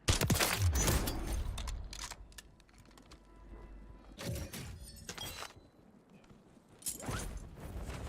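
Sniper gunfire in the Warzone shooter game: a loud crack at the start, then several sharp, scattered shots and impacts separated by quieter stretches of ambient noise, with no talk.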